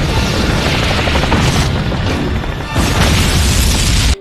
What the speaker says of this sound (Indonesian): Adam kembar berhasil meledakkan lab tersebut